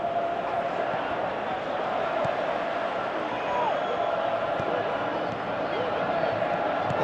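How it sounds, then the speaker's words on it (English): A football stadium crowd reacts to a missed chance, a steady dense roar of voices with swelling murmurs and scattered shouts throughout. "you can feel and hear how the crowd are reacting to all of this"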